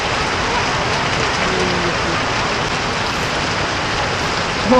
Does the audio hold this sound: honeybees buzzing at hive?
no